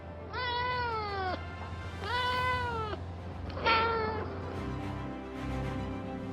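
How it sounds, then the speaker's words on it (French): A small black-and-white striped female cat meows several times in drawn-out calls, the last one louder and rougher, with no voices over it. "À son bord, il y a un félin astronaute, une petite chatte française au pelage rayé noir et blanc."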